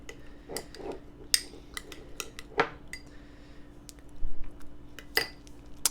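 Coarse ground black pepper stirred into homemade honey mustard in a small dish, heard as a series of close light clinks and taps of a utensil against the container, irregular and fairly quiet.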